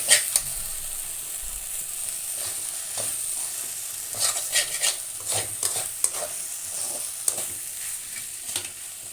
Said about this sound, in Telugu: కొంచెం ఇంకా బంగాళాదుంపలు వేగాలి